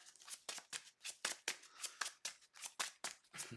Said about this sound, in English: We'll shuffle up.